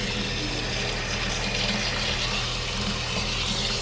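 A Graco airless paint sprayer pumps water steadily during cleanup, a continuous rushing hiss with a low mechanical hum beneath it.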